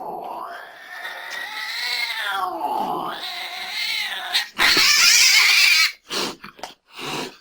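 Cats meow and caterwaul in drawn-out, rising and falling cries for a radio advertisement, loud and close, followed by brief clipped sounds near the end.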